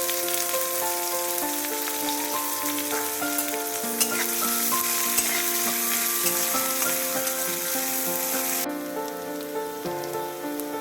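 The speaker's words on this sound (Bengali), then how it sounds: "এবার একটা পেঁয়াজ কুচি কুচি করে কেটে রাখা সেটা দিয়ে দেব।" Chopped onion frying in hot oil with whole black peppercorns and cumin seeds, a dense, steady rain-like sizzle with occasional stirring ticks, close and loud throughout, without speech.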